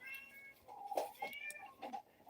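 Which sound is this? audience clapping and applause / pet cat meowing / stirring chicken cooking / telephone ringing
pet cat meowing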